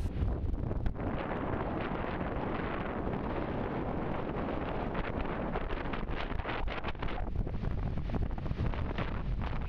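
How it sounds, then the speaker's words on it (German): Strong wind gusts across a wide North Sea beach at a stunt-kite festival, buffeting the microphone in a constant roar with irregular surges. "Es wehte ein strammer Wind über dem weiten Nordseestrand."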